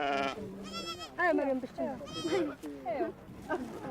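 Goats bleat repeatedly at a well in the Sahara desert, several wavering calls close by in quick succession, some overlapping.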